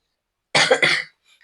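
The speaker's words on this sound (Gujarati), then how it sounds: "પછી મન શરદી ઉધરસ થઈ ગયા ત્યારે બોલવામાં બહુ ઓલું થાય." A person with a cold coughs twice in quick succession, close and fairly loud, against otherwise near silence.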